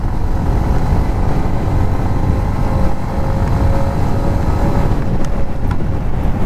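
Steady engine drone from a 2025 Yamaha MT-15 motorcycle cruising at speed in sixth gear, continuous and loud with wind rush, no talking.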